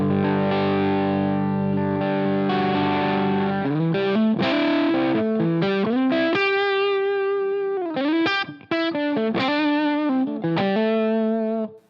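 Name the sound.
guitar through Shin-ei Uni-Vibe emulation, lamp bias turned down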